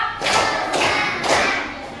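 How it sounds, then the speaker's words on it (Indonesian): Schoolchildren in a classroom clap together on a teacher's counting chant, giving three loud, close, unison claps at an even pace. "Tepuk satu, tepuk dua, tepuk tiga"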